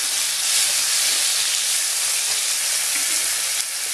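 Tomatoes fry in hot oil in a pan for a bhola fish curry, a loud dense continuous sizzle heard up close with faint stirring underneath, no voices.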